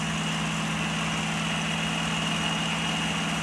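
P-51 Mustang piston aircraft engine on landing approach with flaps and gear down, a steady loud droning hum with a low throb, continuous and unbroken throughout.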